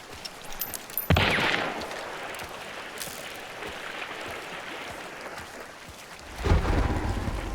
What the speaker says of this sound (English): Ooh, it's getting stormy.